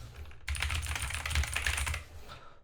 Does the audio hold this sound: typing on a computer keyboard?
yes